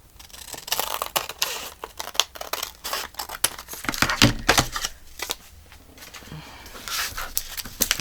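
Scissors cutting through a paper sack, with crisp snips, rustling and crinkling paper heard close by in uneven bursts, louder in the middle.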